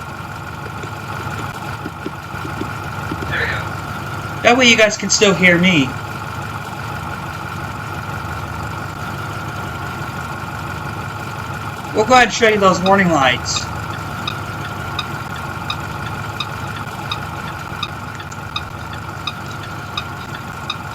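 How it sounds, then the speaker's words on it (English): A 2010 IC BE school bus engine in the game Rigs of Rods idles steadily throughout while someone talks over it, with two short bursts of higher clatter partway through. "I'm going to try to drive this bus a lot longer for the video"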